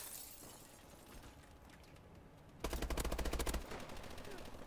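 Rapid automatic gunfire from a low-damage weapon in Call of Duty: Advanced Warfare, a loud burst of about a second following quieter game ambience, with a voice in the background.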